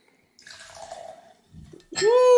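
Rabbit Hole Derringer sherry bomb bourbon poured into a glass: soft splashing trickles followed by a louder, steady pour whose tone climbs as the glass fills.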